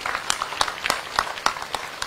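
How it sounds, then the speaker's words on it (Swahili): Scattered audience applause at a Nairobi public address, a few sparse, evenly spaced claps rather than a full ovation, fairly faint and close. "Tuwapigie makofi."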